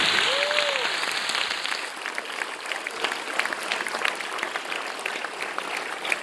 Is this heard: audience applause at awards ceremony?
yes